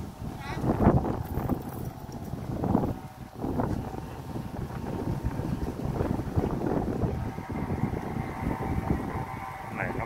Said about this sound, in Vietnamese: Gió thổi vô phát lạnh luôn.